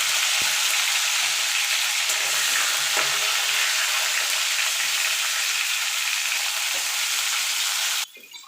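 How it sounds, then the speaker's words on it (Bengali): Cauliflower florets frying in hot oil, a loud dense sizzle that holds steady and close for about eight seconds before cutting off abruptly. "এই তেলে আমি কপিগুলো ভেজে নেব"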